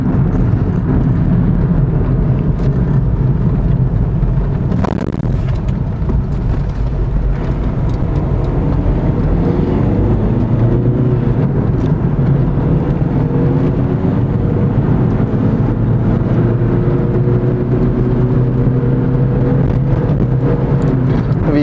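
Volkswagen Cross Polo diesel car cruising at around 80 to 100 km/h on an open road, a steady loud in-cabin drone of engine and road noise with rumbling wind, no talking.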